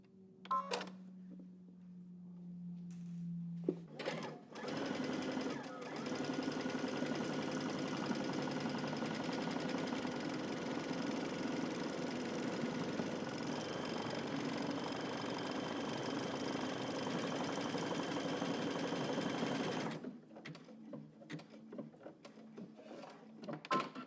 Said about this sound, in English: Now I know my buttonhole is going to be made going backwards